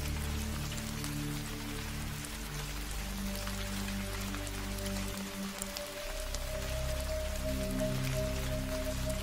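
Light drizzle in a cartoon scene: a steady, soft patter of rain falling under a cloudy sky, with low tonal background sounds running beneath it throughout, no voices.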